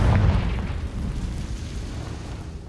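The Confringo spell in a Harry Potter video game lets off a loud, close explosion, a heavy boom that rumbles and slowly fades over a couple of seconds.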